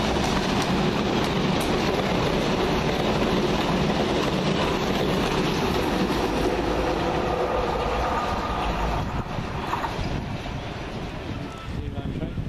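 A London Underground Piccadilly line train rumbles past loudly and close at an open-air station, a continuous roar with wind buffeting that slowly fades toward the end, while people talk nearby.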